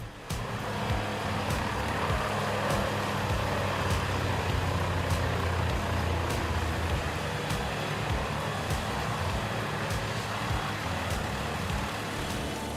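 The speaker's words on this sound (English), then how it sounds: "the Model 40-36 Moorbark drum chipper easily handles mixed tree branches and twigs" A Morbark 40-36 drum chipper working through mixed tree branches and twigs, giving a loud, steady, dense roar of engine and chipping noise throughout with faint periodic ticks.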